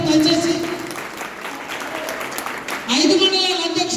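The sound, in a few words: audience clapping loudly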